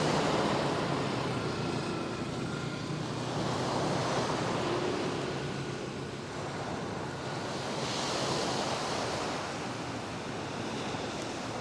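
Sea waves rolling onto a winter beach in Mersin, Turkey, form a loud, continuous wash of surf that swells and recedes in slow surges, with some wind noise on the microphone and no speech.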